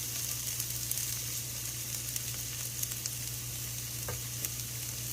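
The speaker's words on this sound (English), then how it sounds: "Now we'll add in some of the other vegetables. We'll add in peppers." Beef and vegetable stir fry sizzles steadily in a hot pan as peppers go in, a dense continuous hiss with occasional small crackles and stirring knocks, close by and without talking.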